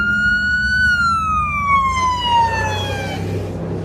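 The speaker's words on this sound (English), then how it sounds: "it's gonna go by soon, the ambulance" A wailing ambulance siren sweeps downward in pitch as it passes close by on a city street, loud over a low rumble of traffic.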